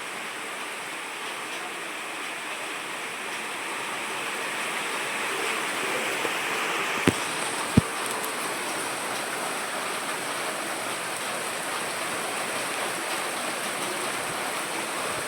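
Steady heavy rain pours down in a dense, even hiss, with a couple of brief knocks partway through.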